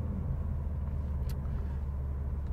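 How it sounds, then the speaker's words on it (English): Low, steady engine rumble from a 2018 Subaru STI with a manual six-speed and Borla exhaust, a continuous idle-like drone with no speech. "pure natural manual six-speed transmission with beautiful engine sound. You're gonna hear it from the Borla"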